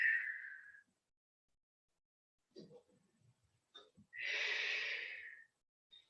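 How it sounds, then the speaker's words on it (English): A person breathing during a Pilates stretch, with a long audible exhale, a few faint breathy sniffs and murmurs, then another strong, airy exhale in a quiet room. "And just breathe here."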